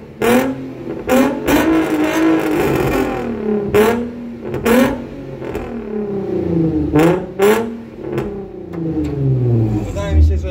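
Nissan 350Z fitted with a Remus exhaust revving repeatedly: loud, close engine blips that rise and fall in pitch in several bursts, separated by sharp clicks and clatter, with talking between the revs.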